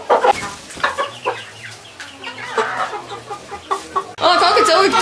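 Hens cluck and murmur close by near a village chicken coop, a series of short soft calls with a low steady hum beneath, ending in a burst of louder scratchy noise.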